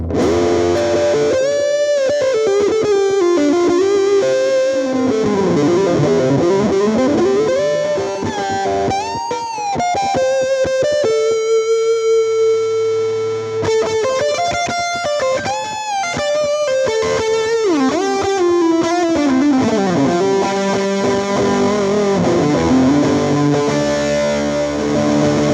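Electric guitar through a JHS distortion fuzz plugin by Mixwave, playing sustained, heavily saturated chords and bending lead lines with a thick, buzzing fuzz tone, loud and continuous with a brief held note in the middle.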